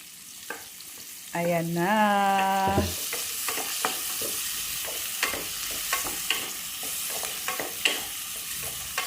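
Onion, garlic and ginger sautéing in a pan, a steady sizzle with repeated scraping and stirring taps of a utensil, after a short rising tonal beep near the start; a voice speaks briefly.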